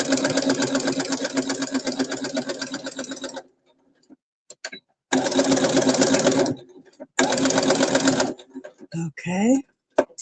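Sewing machine top stitching fabric, running in three rapid mechanical bursts separated by short pauses, close and clear, with brief rustling and a voice near the end.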